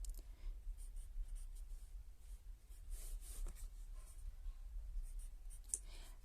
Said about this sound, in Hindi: मैं यहाँ पर एक चीज लिखता हूं